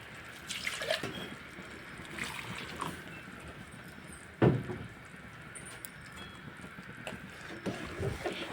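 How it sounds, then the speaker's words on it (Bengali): Water sloshing as a mixer jar is rinsed and poured into a pan while kadhi pakora is being cooked, with splashing and dripping, a heavier pour in the middle and no talking. "এই এক বাটি জল দিয়ে মিক্সির জারটা ধুয়ে এর মধ্যে ঢেলে দেবো"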